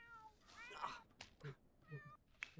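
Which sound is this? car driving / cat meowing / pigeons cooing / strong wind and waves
cat meowing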